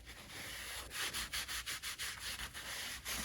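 Paper towels wipe leaked gear lube off a boat's Alpha One Gen 1 sterndrive, giving a steady close-up rubbing hiss broken into a quick run of rhythmic strokes partway through.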